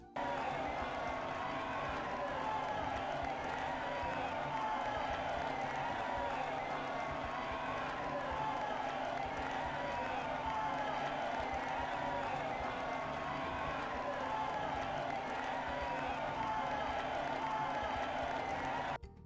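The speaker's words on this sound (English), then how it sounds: "Sound on it is just a 5-second loop of a cheering crowd" A looping crowd cheering in victory lane of the racing video game NASCAR Heat 2, a steady, unbroken wash of cheers and shouts that holds at an even level throughout.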